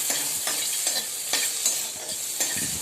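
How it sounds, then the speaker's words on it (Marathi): Cashews and chopped tomatoes being sautéed in a pan: a continuous bright sizzle with rhythmic scraping strokes of a stirring spoon about every half second, close and alone. "दोन टमाटे मी कापून ठेवले ते पण टाकूया दोन मिनिटं छान परतून घ्यायचं"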